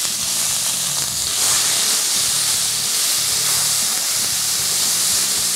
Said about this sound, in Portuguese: Então eu vou colocar aqui a cebola.